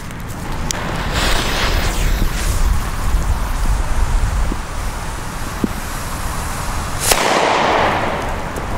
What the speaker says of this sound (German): Jetzt geht's weiter mit Funke A-Böller.